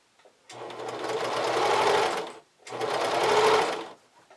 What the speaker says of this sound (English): I'm just going to sew it on as I go.